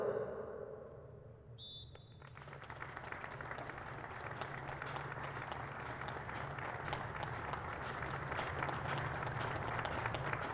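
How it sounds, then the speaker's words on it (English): Football stadium crowd giving a sustained minute's applause in memory of a club figure, a broad steady wash of clapping with a few whistles that holds at an even, loud level throughout. "there'll be a minute's applause here with both clubs remembering Tony Collins."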